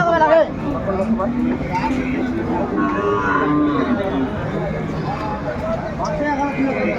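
A dairy cow moos loudly nearby at the Aftabganj cattle market in Dinajpur, amid a busy background of people talking and murmuring.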